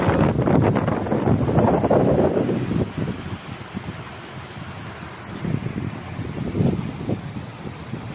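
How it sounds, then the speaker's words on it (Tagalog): Strong wind in open farm fields pounds the microphone in heavy rumbling gusts, easing midway and then surging again, with no one speaking. "Sobrang lakas ng hangin dito"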